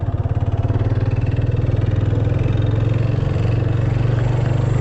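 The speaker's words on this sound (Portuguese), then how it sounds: "A moto com 65 mil já começou a fazer barulho no motor." A 2024 Yamaha Fazer 250 motorcycle with 65,000 km idles close by, its engine running a steady, even thump with a faint added mechanical noise, alone without voices.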